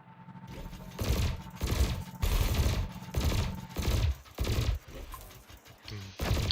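Ship weapons in Elite Dangerous fire at canisters in a steady series of about eight evenly spaced thudding bursts over a constant low electronic hum.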